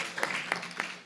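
An audience claps for Chief Tyler at a civic gathering, a short burst of steady, moderately loud applause with separate claps audible through it.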